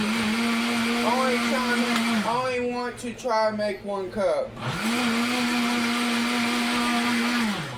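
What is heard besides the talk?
blender making chocolate chip milkshake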